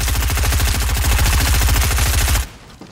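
Rapid bursts of SMG fire from a Fortnite match, a fast steady rattle of shots that fills the first two and a half seconds and then cuts off abruptly into near silence.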